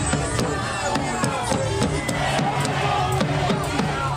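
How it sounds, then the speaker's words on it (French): A rowdy street crowd in Minneapolis surges as a man is led away, with dense shouting, chanting voices and rhythmic rapping or clapping under steady talk. "Donc là il se fait emmener quand même par la foule,"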